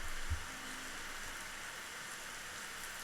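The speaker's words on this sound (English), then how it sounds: "And it's raining again." Rain falls in the Rising World video game as a steady, soft hiss of raindrops that continues evenly throughout, with a brief low thump near the start.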